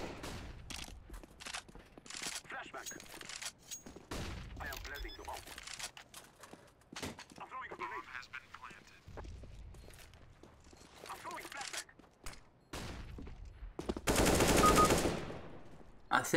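Rapid gunfire bursts from a CS:GO match, sharp broadband cracks repeating in quick volleys throughout, with a dense sustained burst near the end and a voice talking over parts of it.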